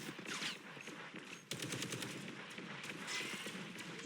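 Rapid bursts of automatic gunfire from Punisher in the video game Marvel Rivals, loud and sustained, rattling continuously with sharp cracks throughout.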